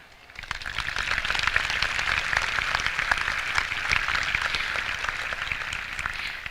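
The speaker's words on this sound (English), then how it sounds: "I want to give a really big hand of applause to all the graduates here tonight" Sustained applause from a large audience cheering graduates at a high school graduation ceremony, dense steady clapping that starts after a brief quiet moment and holds loud and even throughout.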